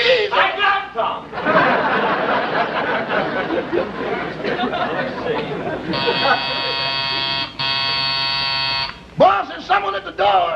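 A harsh electric door buzzer rings in a long, steady blare lasting about three seconds, with a short gap in the middle, amid a lively radio comedy scene with voices and laughter.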